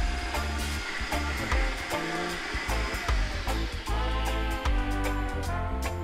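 A loud, steady air pump whirs continuously as it sucks the air out of an inflatable dock platform, with a constant rushing hum and slight fluctuations in pitch throughout.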